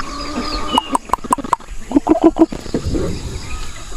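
Pakistani Aseel chickens in a backyard give a run of short, sharp repeated calls followed by lower clucks, loud and close, with no talking over them.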